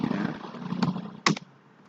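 A few quick keystrokes on a computer keyboard, close and fairly loud, including a sharper tap near the end, while working in a Linux Debian 8 terminal.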